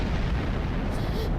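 A deep, rumbling explosion in the Star Trek Online space game, sustained and booming across the whole moment with dense low-end roar and some crackle, and a voice partly mixed into the din.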